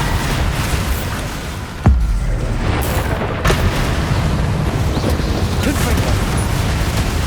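Bombarda explosion spell in the Hogwarts Legacy video game, a sharp booming blast at about two seconds and a second one later, over steady loud combat noise and shouting voices.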